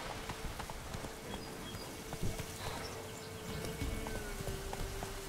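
Hooves of a galloping horse in The Witcher 3, a steady run of soft clip-clop beats heard alone over a constant ambient bed of wind and outdoor noise, with no talking.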